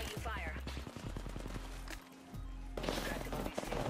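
Rapid automatic gunfire in Apex Legends, a fast burst of close shots followed by more firing and game noise, with voices talking over it.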